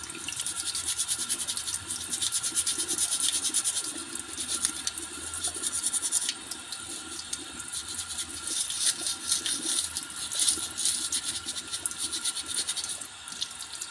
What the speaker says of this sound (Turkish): Arkadaşlar şimdi filtreye ben e, biraz deterjan, çamaşır suyu gibi şey sıktım diş fırçasıyla.